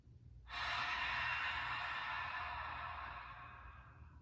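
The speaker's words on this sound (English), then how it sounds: "pay attention to the way that the back of your throat has to slightly flex or constrict in order to make that audible whispering sound" Ujjayi breath drawn through a slightly constricted throat, a single long, close, airy whispering rush that starts abruptly and slowly fades over several seconds.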